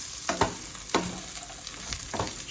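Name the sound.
stir-frying carrots and beans with garlic and onion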